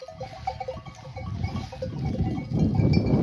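Sheep and lambs in a flock on a highland pasture, with several bleats over a low shuffling of animals close by, growing busier and louder toward the end.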